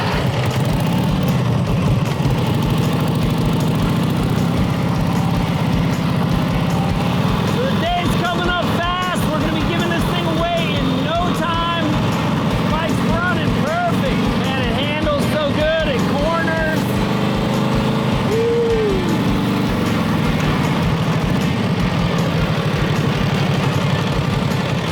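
A 1937 Harley motorcycle engine idles with a steady low rumble that runs the whole time, while people talk over it through the middle stretch.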